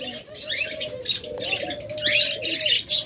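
Caged pet birds for sale at a bird market chirp and tweet continuously, with several overlapping calls close by and a soft cooing mixed in.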